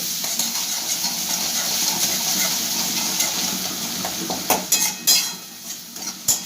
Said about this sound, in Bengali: দেখো এক চামচ আদা বাটা দিয়ে দিলাম ভালো করে একটু কষাবো